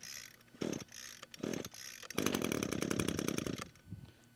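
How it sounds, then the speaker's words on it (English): A string trimmer's small two-stroke engine is pull-started: three short recoil pulls catch briefly, then it sputters into a rough, buzzing run for about a second and a half before dying out, close and loud. "we'll go ahead and start to fire the machine right now"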